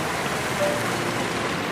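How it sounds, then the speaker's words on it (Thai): A waterfall at a scenic nature viewpoint pours in a brief, steady wash of rushing water, even and close, with no voices. "กองน้ำตกเนาะ"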